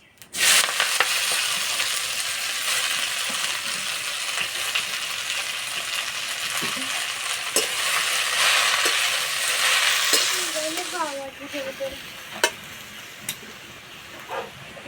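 Malabar spinach leaves hit hot oil with nigella seeds in a kadai, a loud close sizzle with scattered clinks and stirring that drops off near the end.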